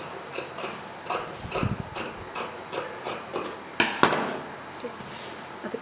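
Scissors snip through silk saree fabric while a baby frock is cut out, a string of light, irregular crisp clicks and crunches close by, with one sharper cluster near the end.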